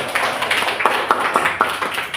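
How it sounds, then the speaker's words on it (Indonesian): Classroom clapping for a student group that has just presented a biology infographic, a few scattered claps from a small group of students, fairly sparse and light over a steady room murmur. "Beri tepuk tangan untuk kelompok ini."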